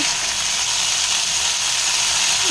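Food frying in a pan after salt is sprinkled in, a steady close hiss and sizzle with no pauses.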